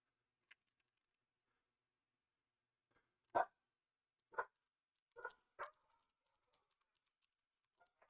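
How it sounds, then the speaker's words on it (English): A few sharp, distant barks from dogs, spaced irregularly against near silence, with faint keyboard clicks scattered around them. "Sorry for the loud dogs."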